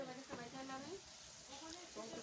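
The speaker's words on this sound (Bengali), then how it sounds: "সব রুই মাছের মাথা এখানে রান্না হচ্ছে।" Rohu fish heads fry in a pan for a memorial gathering, a faint steady sizzle running under a speaking voice.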